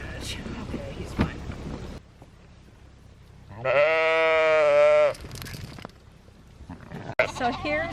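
A healthy farm sheep gives one loud, sustained, wavering bleat at close range in the middle, surrounded by quieter shuffling and handling noises before and after.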